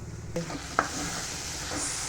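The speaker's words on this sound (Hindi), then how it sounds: "इसमें सिर्फ छौंका मारना है मैंने" A spiced tempering hits prepared raita in a home kitchen, sizzling steadily and close by with a brief sharp crackle near the start, over light stirring; no one speaks.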